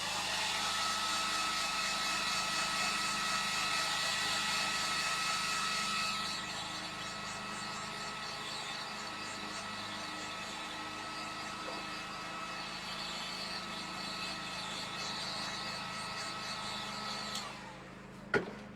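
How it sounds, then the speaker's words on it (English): A heat gun drying a wooden Christmas candle craft piece, a continuous whirring fan blow with a steady hum, close and constant, easing slightly partway through before switching off near the end. "I'm just going to take my heat gun and dry that part"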